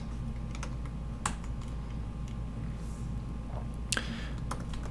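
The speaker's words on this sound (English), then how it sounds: "I'm just typing it out" Someone types on a computer keyboard while writing Ruby on Rails code, soft quick keystrokes in uneven bursts with a few sharper clacks, close and quiet over faint background hum.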